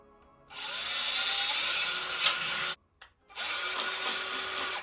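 Power tool cutting small metal finger pieces for a homemade Freddy Krueger glove, a loud, steady whine that runs for about two seconds, stops briefly, then starts again and keeps going.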